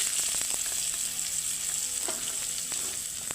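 Egg and a chopped tomato frying together in oil in a pan, a continuous bright sizzle with a few faint stirring taps, steady and close throughout.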